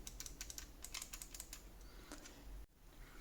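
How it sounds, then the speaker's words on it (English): Clicky micro switch buttons on a BIGBIG WON Blitz 2 game controller, pressed in quick irregular bursts of sharp, close clicks, with a short pause before a few more presses. "They are very clicky, as you can see."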